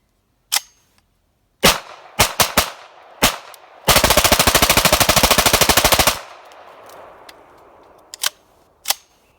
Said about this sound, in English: And if I pull the trigger, it'll fire.